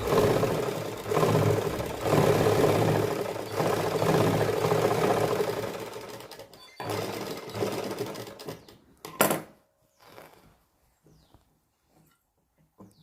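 Sewing machine stitching the fitting seam of a suit, running in steady loud bursts with short pauses for about nine seconds, then a quick final burst and near silence with faint handling noises.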